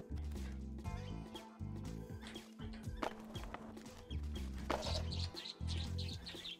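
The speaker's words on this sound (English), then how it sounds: "A little bird following me around." Bird chirps from the skateboarding video game Skatebird, short bright tweets rising over steady looping game music and clip-clop effects, coming in bursts toward the end.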